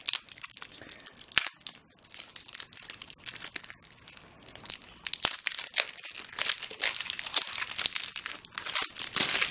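Crinkling and tearing of card game packaging as a knife slits it open for an unboxing of Time of Empires, close, irregular rustles, scrapes and rips throughout with no talking.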